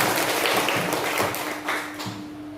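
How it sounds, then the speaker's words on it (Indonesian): Brief burst of classroom applause, dense clapping from a group of pupils for a couple of seconds before trailing off. "Tepuk tangan untuk kita."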